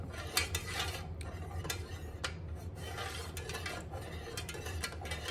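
A utensil stirs fragrance oil into melted candle wax in a container, making a soft continuous scraping and rubbing with light clinks against the sides, close and fairly quiet.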